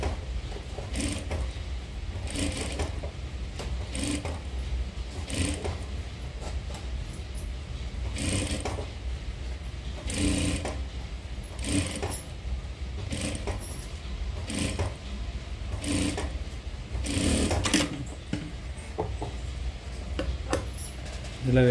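A sewing machine stitches piping onto the back neck of a boat-neck paithani saree blouse, giving repeated short bursts of close mechanical clatter with brief pauses between runs.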